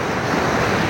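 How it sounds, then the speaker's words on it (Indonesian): Cold wind buffets the microphone on a beach in Barcelona, a constant loud roar blended with surf and no voices. "Ini banyak angin, anginnya dingin tapi di pantai gitu guys"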